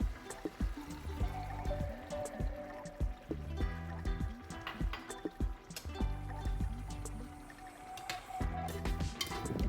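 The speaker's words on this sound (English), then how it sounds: "remove the cover and add hot water if needed" Hot water trickles and pours steadily into a pan of stewing chicken, with scattered drips and clinks over a low background rumble.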